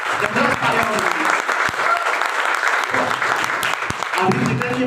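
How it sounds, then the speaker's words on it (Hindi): A crowd at a company gathering applauds loudly and continuously, with thick clapping throughout and voices mixed in. "एक बार जोरदार तालियां होनी चाहिए जिदन जी के लिए, जबरदस्त तालियां होनी चाहिए"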